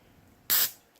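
A single burst of aerosol dry shampoo sprayed from a can, a loud broadband hiss lasting about a quarter second and then trailing off, close and alone.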